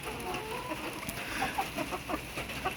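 Farm chickens cluck softly and intermittently at a distance, with short scattered calls over a faint outdoor background hum.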